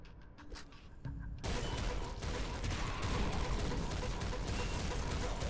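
A blood weapon blasts away in the game Nuclear Throne Ultra Mod, starting as sparse clicks then erupting after a second into a loud dense barrage of rapid shots and crunching impacts that holds steady to the end.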